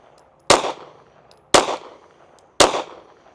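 Three pistol shots fired at USPSA targets with cast reload ammunition, each a sharp loud crack with a short decaying tail, spaced about a second apart and with no voices.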